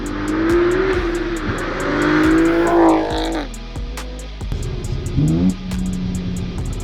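Turbocharged Nissan Z engine revving hard as the car accelerates through gears, with rising engine tones, a shift break and another climbing pull, loud and close with no talk.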